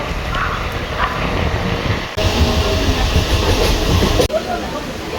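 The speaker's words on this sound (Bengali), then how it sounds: "শিয়ালদা স্টেশন থেকে ট্রেন বেরিয়ে গেল।" A Krishnanagar local train running on the rails after leaving Sealdah station, a loud continuous rumble and rattle heard from inside the carriage, with two abrupt breaks in the roar, no one talking.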